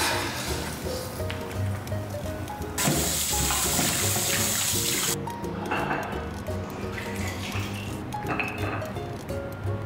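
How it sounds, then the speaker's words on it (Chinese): Boiled pork ribs are rinsed under a running kitchen tap, with a loud gush of water for a few seconds amid splashing and clatter in a sink. "排骨煮开一分钟，把它捞出来洗干净"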